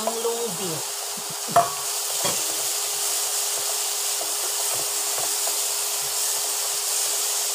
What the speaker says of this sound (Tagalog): Igisa natin ang long beans.